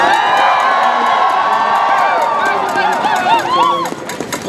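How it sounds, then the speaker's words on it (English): An outdoor crowd at a cold-weather rally for post-secondary education cheers, whoops and claps loudly, with high shouts and whistles rising over continuous clapping and scattered voices calling out. "I think give ourselves a big round of applause"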